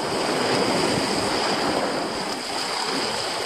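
Sea waves washing onto a rocky shore at a fishing spot, a steady broadband surf roar with no distinct breaks, fairly loud and continuous throughout.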